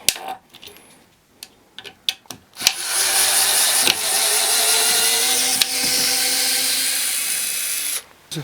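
A SKIL cordless screwdriver drives a screw: a few sharp clicks, then a steady, close motor whir lasting about five seconds before it stops.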